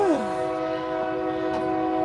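A train sounds its horn outside a gym during an elliptical workout, sustained harmonic tones holding loud and steady over the whole stretch with a downward sweep at the start; faint voice noise sits underneath.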